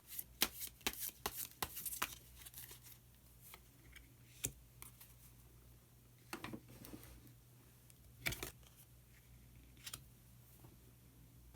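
Tarot cards being shuffled and drawn, soft papery flicks and snaps in uneven bursts, close and quiet in a still room.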